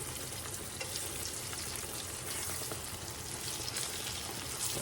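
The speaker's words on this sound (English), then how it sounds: "Fry them kind of gentle" Battered eggplant slices frying gently in oil, a steady dense sizzle and crackle heard close and alone, without talk.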